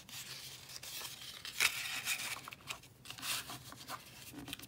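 Scored card paper is folded in half, a quiet sequence of soft rubbing, creasing and crinkling sounds with brief scrapes, close and faint in a calm room.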